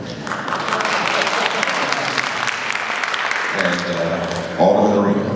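Audience applause at a candidates' debate during opening statements, a thick, even patter of many hands lasting several seconds, then a speaker's voice cuts in as the clapping dies away.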